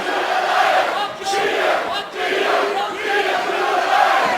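A large crowd at a Cage Warriors MMA event in Newport chants in unison, loud and sustained, the rhythmic roar of many voices echoing in a big indoor arena.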